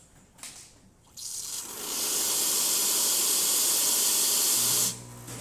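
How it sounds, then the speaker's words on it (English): After a short pause, a heat-exchanger espresso machine's hot water tap runs with a hissing rush of water and steam, holding steady for several seconds before stopping, followed by a low hum as the pump refills. "And then lastly, the hot water tap."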